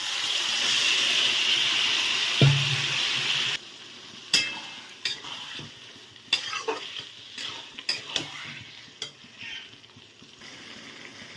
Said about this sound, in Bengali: তো ভাজা হয়ে গেছে, তারপরে আমরা দিয়ে দেবো ফুলকপির তরকারি